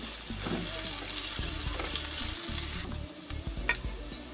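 Onion and garlic cloves frying in oil, a steady close sizzle with occasional stirring clicks and scrapes, no voices.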